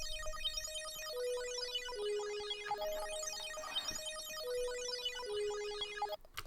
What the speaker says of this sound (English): I wanted you to be able to hear the little sparkling effect